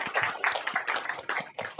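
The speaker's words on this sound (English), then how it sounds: "Yeah, I want to clap." A small group applauds at a county commissioners court meeting, with a brief, close burst of brisk, uneven hand claps and no voices.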